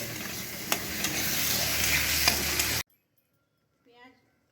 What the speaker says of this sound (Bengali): চিনি দিয়ে কিছুক্ষণ লাল করে ভেজে নিতে হবে।